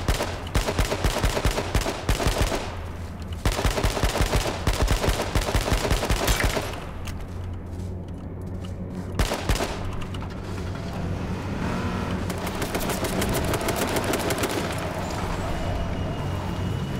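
Rapid bursts of battle royale video game gunfire crackle loudly in dense volleys, broken by short pauses, with a steady roar of other game noise underneath.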